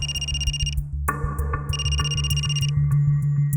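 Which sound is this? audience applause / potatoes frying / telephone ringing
telephone ringing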